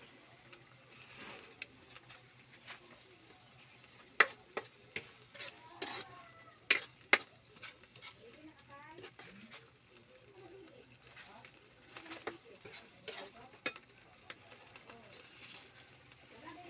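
Ginamos, fermented fish paste, being sautéed in a pan, a soft sizzle beneath repeated sharp scrapes and clinks of a utensil stirring against the pan, close and intermittent, with quiet talk now and then.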